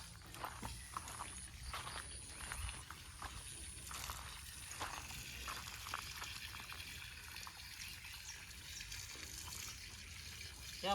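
Water flowing on a farm plantation, a faint continuous trickle and gush with soft scattered splashes and what sound like footsteps, quiet and steady throughout.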